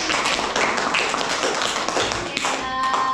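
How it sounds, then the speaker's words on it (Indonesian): An audience at an Islamic guidance and counselling school session claps together in a dense, continuous patter that fills the room at moderate loudness, with a few voices mixed in. "Kita tepuk tangan dulu"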